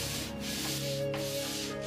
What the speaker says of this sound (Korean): 여기에 사포로 마감 손질을 해서 판면을 부드럽게 하니 각자하기 좋은 판이 나왔다